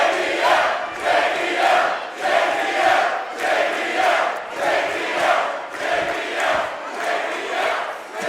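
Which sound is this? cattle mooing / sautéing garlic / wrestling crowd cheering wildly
wrestling crowd cheering wildly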